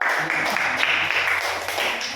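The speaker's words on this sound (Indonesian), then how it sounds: "Tepuk tangan dulu untuk kelompok 2 dan 3" Classroom applause for two student groups, a steady patter of many hands clapping together through the whole short stretch, fairly close, with no voices on top.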